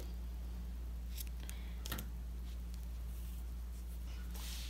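Scissors snip crochet yarn, giving a couple of quiet, brief cutting clicks over a faint steady hum.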